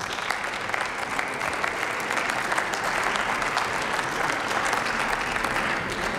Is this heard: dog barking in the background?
no